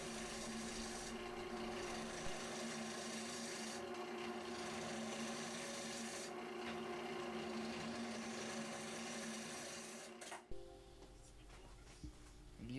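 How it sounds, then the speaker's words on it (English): A bowl gouge scraping and cutting across the face of a canarywood piece spinning on a lathe, a steady continuous rasping hiss with a low hum that runs for most of the clip and then cuts off near the end. "I'm using a bowl gouge to even off the face."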